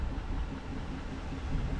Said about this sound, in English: I hear a hawk or an eagle in the background over my truck engine.